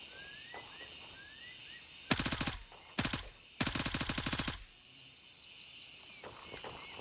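Bursts of automatic rifle fire in the military shooter Gray Zone Warfare, three sharp volleys of rapid shots of different lengths, heard over a quiet outdoor bed of insects and distant birds.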